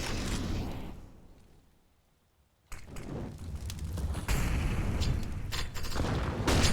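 A grenade detonates during a competitive esports match: after a brief near-silence, a sudden heavy boom hits, followed by a loud, dense rumble of gunfire and blasts that continues steadily.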